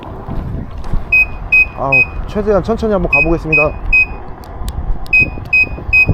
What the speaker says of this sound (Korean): 이제는 25km만 돼도 알람이 들어오고 있는 상황이고요